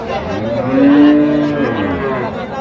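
A cow lets out a long, loud moo close by, over a busy background murmur of a crowded outdoor cattle market at Raniganj, Dinajpur.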